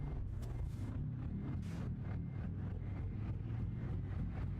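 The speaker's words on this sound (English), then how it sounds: "I still hear that engine." A steady low engine drone from a truck in a convoy driving game runs throughout, fairly faint and wind-like, with no talk over it.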